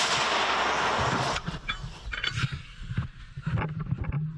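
A loud artillery shot opens the clip with a long rumbling roar, followed by scattered thuds and clatter as the echo fades, in a combat zone.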